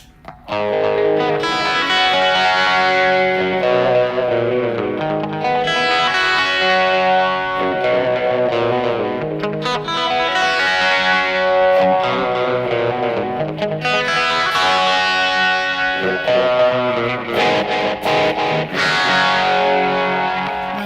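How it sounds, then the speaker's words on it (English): Electric guitar lead played through a phaser effect on a Boss eBand JS-8, sweeping swirling tone over sustained notes and phrases, continuous and prominent, no talk. "the distortion disappeared when I activated the phaser"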